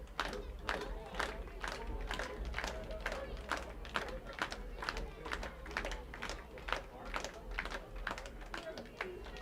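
A baseball crowd at a Kitchener Panthers at Barrie Baycats game claps in a steady rhythmic beat, each clap sharp and regular, with a broad crowd murmur and cheering underneath and a voice talking faintly in the background.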